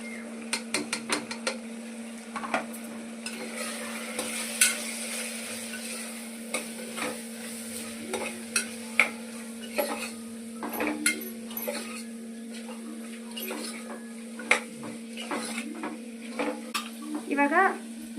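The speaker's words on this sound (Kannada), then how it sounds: "ಇವಾಗೆಲ್ಲ ಮಿಕ್ಸ್ ಮಾಡ್ತಾ ಇದ್ದೀನಿ" Spices and chillies are stirred in a sizzling pan, a spoon scraping and clinking in irregular strokes over a steady frying hiss, close and fairly loud with no voices.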